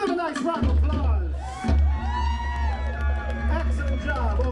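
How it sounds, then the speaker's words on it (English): Audience applause and cheering for luau dancers at a Waikiki stage show, a loud sustained roar of clapping, whoops and shouts from a close crowd that swells again partway through. "Give them a nice round of applause."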